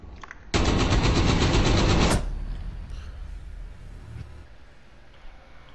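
A sustained close burst of rapid automatic fire in Rainbow Six Siege, loud for about a second and a half, then cutting off to quieter room tone with faint distant shots.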